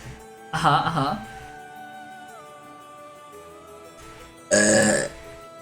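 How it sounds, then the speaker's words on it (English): Two drawn-out, voiced burps from a person, the first longer and the second ending the clip, with soft sustained background music between them. "That's burp 200!"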